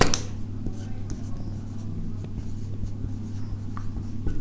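Chalk or marker scratches across a board in quick, short strokes, faint and close, over a low steady hum.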